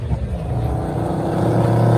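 Muscle car engine at a car show rumbling loudly and close with a choppy, lumpy idle that swells slightly as it rolls in.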